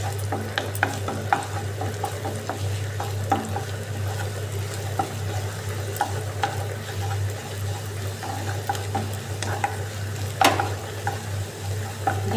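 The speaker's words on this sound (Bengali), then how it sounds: "আমি ডিমটা ফার্স্টে ডিমটা ভেজে নেব" Egg frying and being scrambled in a pan, a steady sizzle with scattered scraping stirs and clinks, fairly quiet and close, over a low constant hum.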